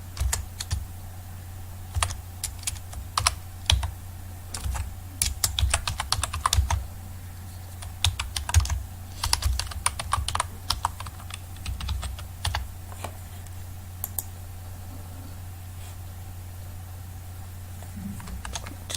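Someone types code on a computer keyboard, giving irregular bursts of crisp key clicks and taps. Pauses separate the bursts, the keys sound close and fairly quiet, and a low steady hum runs underneath.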